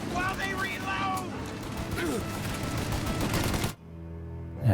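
Rapid gunfire and bursts from a Gatling gun rattle during a shootout in Mafia: Definitive Edition, loud and dense with shouting voices, then cutting off abruptly near the end before a final thud.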